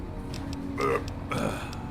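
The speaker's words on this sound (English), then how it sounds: "Sorry, after beer burps." A man lets out two short, close burps after drinking beer, with a brief pause between them over a low background hum.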